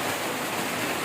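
Steady rain pours as a dense, even hiss, loud and close, filling the whole moment without a break or any voices.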